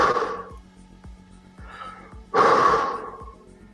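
Slow, deliberate breaths drawn in and pushed out close to the mic, three audible breath swells with the last exhale loudest and most forceful, separated by quiet pauses.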